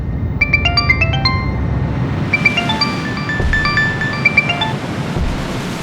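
A mobile phone ringtone plays a repeating melody of bright electronic tones, steady and fairly loud, over a constant background rush of noise.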